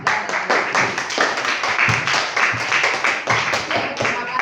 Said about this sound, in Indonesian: kalau cukup tepuk tangan buat kelompok 4